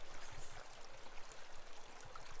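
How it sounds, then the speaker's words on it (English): A small, crystal-clear mountain stream in the White Mountain Wilderness flows steadily nearby, a continuous close babble and trickle of water with no voices. "Especially with this stream right here."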